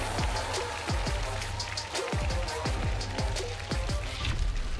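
Studio audience applause welcomes two singers onto a televised singing-competition stage, a dense, steady clapping wash running the whole time beneath booming stage music.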